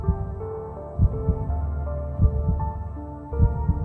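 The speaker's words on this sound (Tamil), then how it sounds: "என் இதயம் துடிக்கிறது மட்டும்தான் எனக்கு கேட்டுச்சு." Heartbeat sound effect: slow, steady low thumps repeating about every second, loud and close over a humming musical tone, with no voices.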